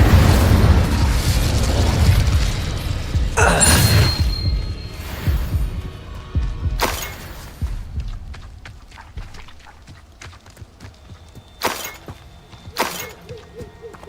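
Confringo explosive spell blasts in Hogwarts Legacy video game, several loud bursts with sharp shattering impacts and rumbling decay, followed by scattered crackles and smaller pops as the fight settles.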